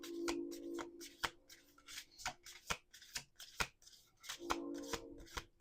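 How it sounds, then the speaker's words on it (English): A deck of cards being shuffled close by, with repeated sharp riffling bursts and snapping flicks in an irregular rhythm, plus a couple of longer whirring riffles, no talking. "Okay, we're going to do 2 more shuffles after this."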